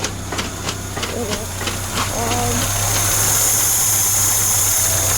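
A cold Peugeot 505 2.0 engine, converted to a double-barrel carburettor, idles with a steady low hum and hiss that grows slightly louder and more constant after a few seconds, heard up close.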